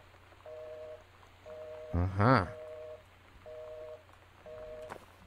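Telephone tones from the video game Gone Home: evenly spaced repeating beeps, about five short pairs roughly a second apart, fairly faint, with a brief spoken interjection partway through.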